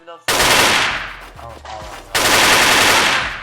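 Loud, close bursts of rapid automatic gunfire in the online shooter Wolfteam, two sustained volleys split by a short pause, with no speech.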